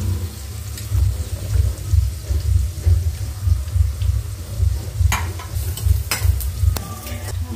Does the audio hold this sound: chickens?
no